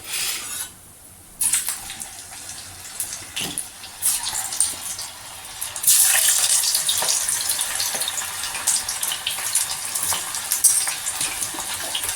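Ivy gourd pakoda fritters fry in hot oil, giving a steady bubbling hiss that swells louder partway through and holds as a continuous, fairly close sizzle with no talking.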